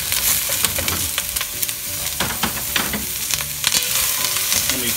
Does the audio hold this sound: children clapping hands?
no